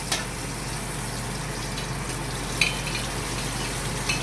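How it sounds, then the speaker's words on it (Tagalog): Ginger sautés in hot oil for arroz valenciana with a dense, steady sizzle and occasional stirring clicks, close and continuous with no speech. "Ginisa na natin yung luya, no? Ayan yung luya ang pagisa, start na."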